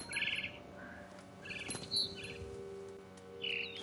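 A mama bird chirps in the video game What Remains of Edith Finch, with several short, bright tweets spaced across a quiet ambient backdrop, clear and fairly close.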